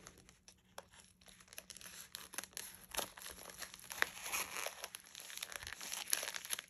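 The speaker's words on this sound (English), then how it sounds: "I'm just trimming it from the top because I want to see if I can keep that sticker." A paper subscription mailer is trimmed open at the top, with quiet crinkling, rustling paper and small snipping and tearing sounds close by.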